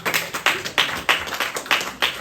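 A church congregation clapping in unison to acclaim the Lord, sharp rhythmic claps roughly every third of a second, close and lively, with no talk over them.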